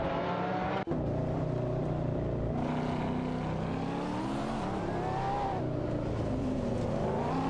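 Race cars in an AI racing video game, a Ford GT17 and a Nissan GT-R Nismo battling closely, engines droning and revving with rising and falling pitch through gear changes, loud and continuous with one sharp click early on.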